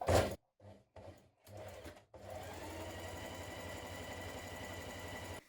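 A domestic sewing machine runs a line of ease stitching along a trouser front, starting with a few short stop-start bursts and then settling into a steady, quiet, even whirring run.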